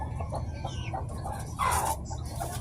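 Newly hatched chicks and a hen cluck close by as the eggs are checked, a steady low murmur of clucking with a brief louder burst of peeping partway through.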